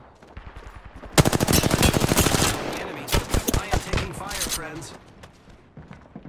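Rapid automatic gunfire in the video game Apex Legends, a dense burst of close shots followed by scattered single shots, with a player talking over it.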